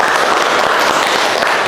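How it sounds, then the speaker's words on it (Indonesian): A classroom of students claps for a presenting group in a university teaching session, giving a short, steady burst of applause throughout. "tepuk tangan untuk kelompok 2"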